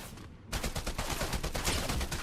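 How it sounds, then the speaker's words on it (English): Rapid bursts of gunfire from an AI-controlled enemy in the action game Lies of P, a dense loud volley kicking in after a brief quieter moment and continuing steadily. "that's an AI shooting at me"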